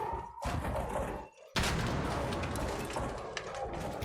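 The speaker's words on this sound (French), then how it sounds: "On va lui jeter la grenade sur la gueule" Grenade explosions in the video game ARC Raiders, heavy blasts with dense rumbling and crackling fallout, a brief lull and then a second loud burst that keeps rolling on.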